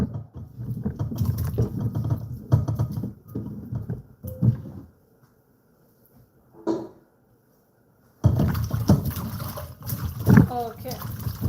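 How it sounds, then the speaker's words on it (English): A potato is rinsed under running water, bursts of splashing and trickling with a pause of near silence in the middle, then the water resumes louder and closer. "Let me quickly rinse this potato."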